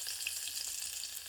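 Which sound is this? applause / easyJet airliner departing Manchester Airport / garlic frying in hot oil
garlic frying in hot oil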